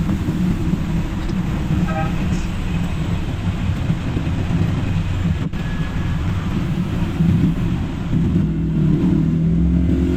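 Dense road traffic on the route from Baguio to La Trinidad, a loud continuous rumble of engines and tires from close by with steady low-end drone and no talking.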